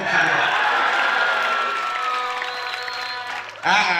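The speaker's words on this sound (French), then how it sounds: "Applaudissez pour vous." A crowd claps and cheers together at a school year-end closing ceremony, a dense wash of applause with excited voices, fading slightly before a fresh burst of shouting.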